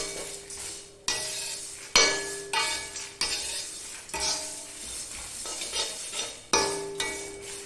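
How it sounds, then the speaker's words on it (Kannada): Gram dal and browned garlic roast in a pan as a spoon stirs, producing repeated sharp scrapes and clinks over a light sizzle, loud and close, with no speech. "ಹುರ್ಗಡ್ಲೆ ಹಾಕಿ ಅದನ್ನು ಸ್ವಲ್ಪ ಚೆನ್ನಾಗಿ ಹುರ್ಕೋಬೇಕು."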